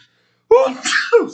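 One loud, sharp human sneeze close to the mic, breaking a silence during a casual sports talk show.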